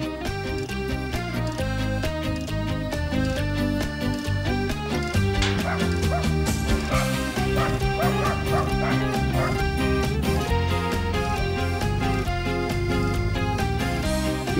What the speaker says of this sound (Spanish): ¡Oh, mira los perritos!